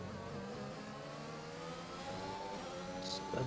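A race car engine in a sim race in Brazil drones steadily as the car powers out of a corner, a continuous mid-pitched note heard faintly from a distance.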